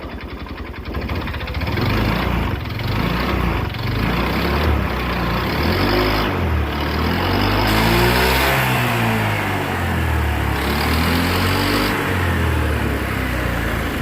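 A Honda Click scooter engine with a noisy internal knock and smoke idles, then revs up and down repeatedly, a loud rattling clatter under a rising and falling mechanical whine.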